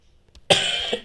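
A single sharp, loud cough erupts after a brief quiet moment, followed by a second short cough burst at the end.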